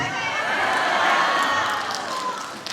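A women's singing class audience applauds and cheers, a loud, dense crowd clapping with scattered whoops that swells in the middle and then tapers off.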